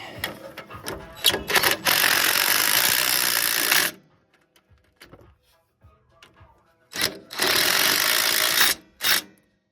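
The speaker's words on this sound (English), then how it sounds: "I'm gonna grab my drill and go ahead and tighten those down" A cordless drill tightening bolts on a 2006 Dodge Ram 1500 during a brake and rotor replacement whirs in two long bursts, with short clicks and handling noises between them and a brief final zip at the end.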